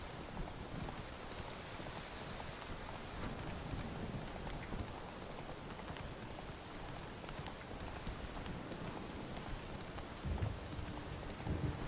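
Steady rainfall in The Witcher 3 video game, a dense even patter of drops on surfaces with a faint low thunder rumble beneath, quiet and unbroken, with two brief low thumps near the end.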